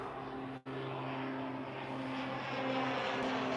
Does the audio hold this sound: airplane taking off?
yes